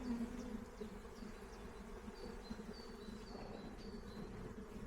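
Honey bees buzz around an open hive during a colony transfer, a steady low droning hum of many insects close by, with a few individual bees whining past at a higher pitch.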